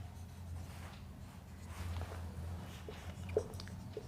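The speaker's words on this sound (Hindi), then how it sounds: "चलिए यहाँ पे लिखते हैं" Marker or chalk writing on a board during a trigonometry lesson, faint scratchy strokes in short bursts against a low room hum, with a small tap near the end.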